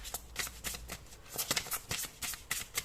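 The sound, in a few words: tarot cards being shuffled and drawn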